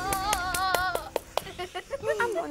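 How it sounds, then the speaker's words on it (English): A lone person claps on a game show set, giving a handful of sharp, separate claps over people talking. "I'm the only one clapping."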